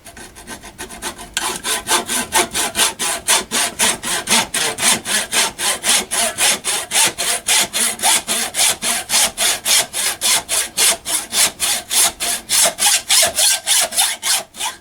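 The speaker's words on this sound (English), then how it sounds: "Actually hear that saw blade. They're sharp." Steady back-and-forth hand sawing with a sharp blade, a fast even rhythm of rasping strokes cutting through hard material on a Triumph, close and loud with no talk.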